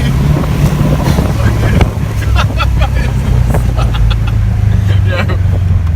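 A Subaru WRX fitted with a DC Sports ram air intake revs hard, a loud, rising engine roar with wind buffeting over the microphone and voices heard under the noise.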